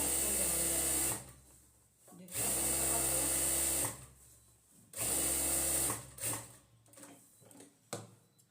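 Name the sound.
sewing machine stitching elastic onto pajama waistband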